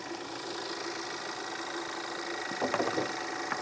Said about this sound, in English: Nice little 4-cylinder engine. The engine sounds good.